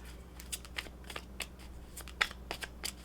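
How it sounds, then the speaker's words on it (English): Crisp riffling bursts of tarot cards being shuffled up close, repeated in quick irregular snaps against a quiet background. "if you're not a fan of the shuffling, my apologies"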